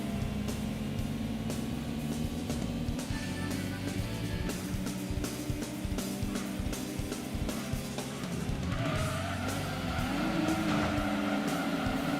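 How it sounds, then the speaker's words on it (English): A race car in the GT2 video game loses grip and spins out, its engine droning steadily with rising revs and a tire squeal toward the end, no voices. "Got like super loose. Just spun out."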